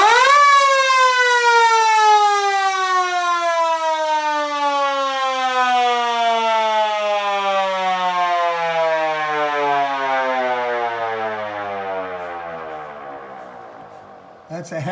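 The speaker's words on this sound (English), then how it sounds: "This is the siren, believe me." A vehicle-mounted siren on the Beast of Turin sounds one long, loud wail that starts high and slowly winds down in pitch over about fifteen seconds.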